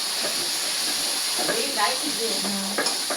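Pointed gourd (potol) frying in a very large wok as it is stirred, giving a steady hiss and sizzle of hot oil and steam with soft scraping clatters throughout, and faint voices in the background.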